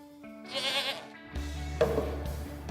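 Goat bleating at a local creamery farm: one wavering, nasal bleat up close, followed by a softer second call over a low rumbling background, with no talking.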